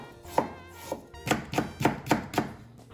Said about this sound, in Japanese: これは生姜、皮付きのまんまでいいです。 こちらを薄いスライスにしていきます。